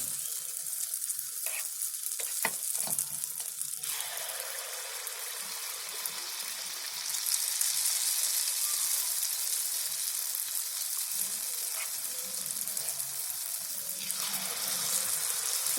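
Spoonfuls of sweet gulgule batter dropped into hot oil, a steady bright sizzle and bubbling that swells after a few seconds, with a few light clinks early on and no talking.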